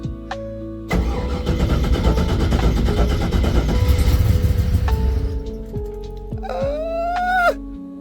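An LS1 car engine cranks and catches, then roars and settles into a loud, steady idle before revving up high near the end, close by.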